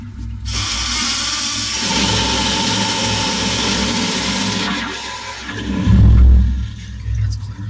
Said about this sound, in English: You're blowing the variable ballast below us there.